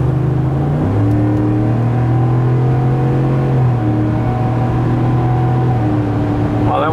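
A V8 car engine pulls hard at highway speed, a loud, close, steady drone whose pitch climbs and then drops sharply at each gear change.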